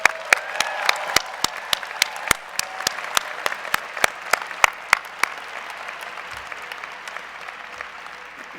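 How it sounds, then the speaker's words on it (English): Scattered, individual claps ring out at a 2017 graduation ceremony, sparse and distinct at first and then fading into quieter background noise. "I would like to invite you to join me in a round of applause for these people."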